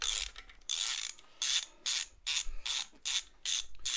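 Torque wrench ratcheting on a Range Rover steering swivel, close clicking bursts in a regular rhythm of short strokes separated by brief pauses.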